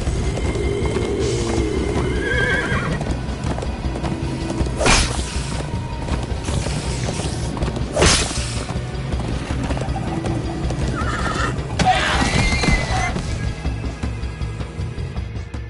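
Several horses neigh and whinny loudly over a steady rumble of galloping hooves, with sharp whinnies recurring through the run and no talk.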